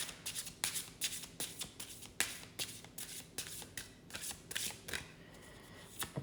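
Tarot cards shuffled by hand, a quick run of crisp riffling bursts and soft slaps repeating close up over about six seconds, with no talking.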